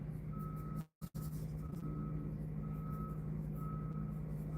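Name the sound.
repeated electronic beeping outside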